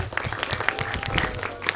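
An audience claps through a fourth-anniversary birthday celebration for Share Edu Indonesia, a dense, steady patter of many hands with sharp close slaps, and a voice breaks in faintly under the clapping.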